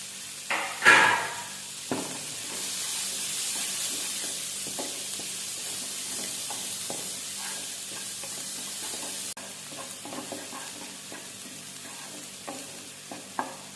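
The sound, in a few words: onions and green chillies frying in a pan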